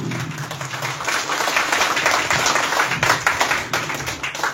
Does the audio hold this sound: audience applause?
yes